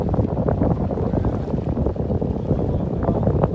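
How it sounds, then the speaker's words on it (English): Broadband wash of water rushing along the shore at a beach in North Naples, Florida, loud and steady throughout, with wind buffeting the microphone and no voices. "The water rushing?"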